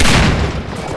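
A single burst of gunfire from a weapon in the video game Half-Life 2, very loud and close, a dense booming blast filling the brief moment.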